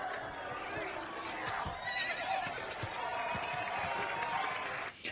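A horse whinnies amid a noisy crowd, with scattered hoof thuds and general commotion running throughout.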